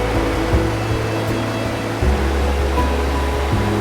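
A creek flows with a steady broadband rush of water close by, a constant wash with a low hum underneath.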